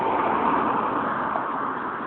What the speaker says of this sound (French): Une moto.